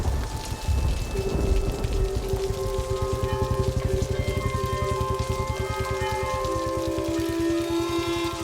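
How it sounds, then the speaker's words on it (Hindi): Steady rain falling in a quiet indoor film scene, a dense continuous patter with low rumbling underneath and faint tonal hum layered over it, no voices. "बारिश"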